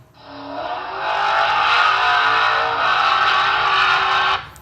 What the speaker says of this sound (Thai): เสียงเครื่องยนต์